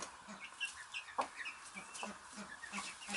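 Chickens cluck and murmur in a soft, irregular chatter nearby, with short throaty calls from a rooster among the flock and no talking.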